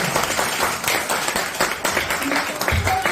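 A church congregation at a Sunday worship service breaks into applause to give glory to God, a rough, uneven burst of clapping mixed with voices calling out.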